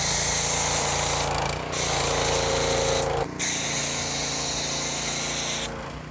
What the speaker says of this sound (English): we like to pressure wash our carts